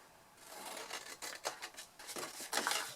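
Scissors cutting paper wedges for a napkin box: a run of soft, close snips and rustling slices in quick irregular succession, faint and without talk.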